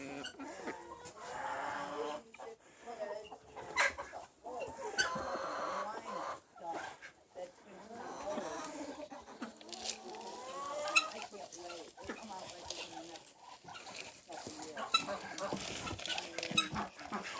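Chickens cluck and murmur around a farm on a rainy day, steady close-range bird calls over a wet, noisy background with people talking at times.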